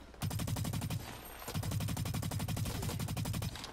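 Rapid automatic gunfire from the video game Blacklight Retribution, two sustained loud bursts of machine-gun fire split by a brief pause, dense and close.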